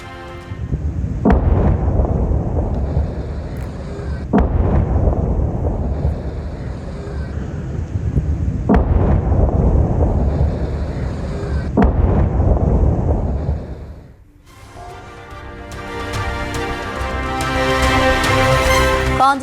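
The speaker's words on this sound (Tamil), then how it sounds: "ஹைஃபா உள்ளிட்ட நகரங்களையும் குறிவைத்து தாக்கியதால் குண்டு சத்தம்" Bomb blasts from strikes on cities including Haifa, Israel: a series of loud, heavy booming rumbles every few seconds, each surge lasting several seconds, followed by a brighter, busier stretch of noise near the end.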